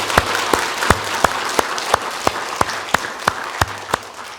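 A church congregation at a Thanksgiving Sunday service claps in unison, a steady even rhythm of about three claps per second, moderately loud and close, with no talk over it.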